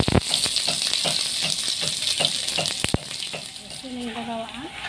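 Onions fry in hot oil with a steady sizzle broken by repeated stirring clinks and scrapes, close by, followed by a brief tonal sound near the end.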